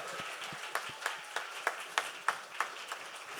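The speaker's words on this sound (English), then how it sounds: "Big round of applause for Calvin Gowland" At a live podcast event in a venue, an audience claps to welcome a guest on stage. The claps come in a faint, fairly steady rhythm that sounds distant.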